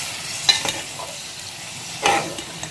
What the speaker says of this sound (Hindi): ये देखें, सौते हो रहा है।